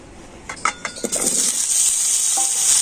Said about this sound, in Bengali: কড়াতে আবার আমি একটু সর্ষের তেল দিয়ে দিয়েছি আর এবার আমি কেটে রাখা আলুগুলো ভেজে নেব